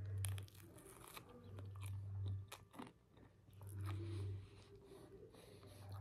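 Toasted pizza crust dipped in butter is bitten and chewed close to the mic, producing repeated crunchy bites and wet chewing in bursts over several seconds, quiet overall.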